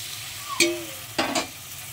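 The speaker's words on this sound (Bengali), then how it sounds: "আলু ভালো করে ভেজে আলুর উপরেই সব কিছু মশলা টশলা দিয়ে ভালো করে কষিয়ে নিচ্ছি" Potatoes with spices being stir-fried in a pan for a Bengali curry: a low background sizzle with a few sharp scraping stirs of a spatula, one near the start and a pair later, no talking.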